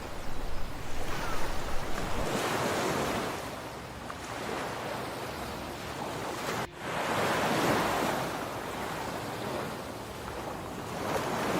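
Open-sea ocean waves surge and wash in a broad continuous roar with wind buffeting the microphone, swelling and easing over several seconds, no voices.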